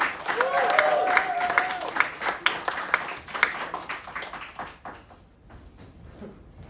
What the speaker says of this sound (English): Thanks for keeping the claps going until I got to the mic.